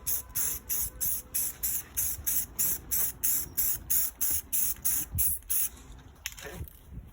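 Spray paint going on in light coats over the edges of an HKS diffuser for an IS300, about a dozen short rhythmic hissing bursts close up, then a pause and a few faint handling sounds.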